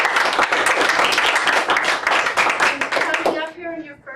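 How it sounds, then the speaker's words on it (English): An audience at a Toastmasters meeting claps, a dense, even patter of many hands that carries on for several seconds before a voice comes in as it fades. "I also want to give you a round of applause for being"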